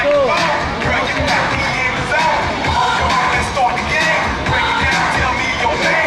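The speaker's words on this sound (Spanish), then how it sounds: "Un fuerte aplauso." Crowd applause and cheering at an NBA basketball exhibition event in Valencia, a dense, loud, sustained wash of clapping mixed with voices and occasional whoops.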